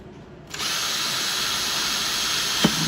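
A power drill bores holes through the thin cover of a Honda EU2200i generator, a sudden steady high whine starting after a brief pause and holding close and loud, with a small knock near the end.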